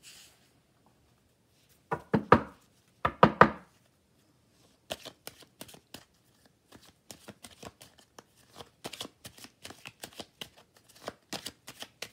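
Tarot-style cards drawn and shuffled for a card reading, two quick riffling bursts followed by a scattered series of light slaps and flicks as cards are handled and laid down.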